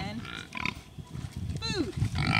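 Pigs on a farm grunt and snort close by in short, overlapping bursts, with a squeal or two and a person talking over them.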